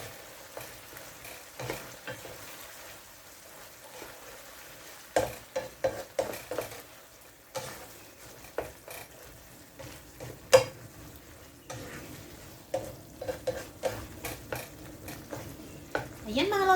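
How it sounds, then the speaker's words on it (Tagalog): Picadillo cooking in a pan, with sizzling and frying under intermittent spoon stirring and scraping against the pan, close up with irregular clatter over a steady low bubbling bed. "hayaan lang natin siyang kumulo"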